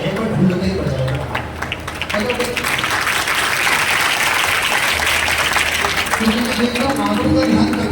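An audience at a religious katha claps in a loud, sustained burst of applause that runs steadily through the clip, with crowd noise mixed in.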